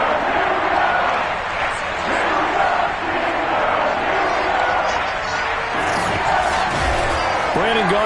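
A sold-out Heinz Field crowd roars continuously in a Madden NFL 22 Steelers versus Packers game, a dense, loud stadium din with voices talking over it.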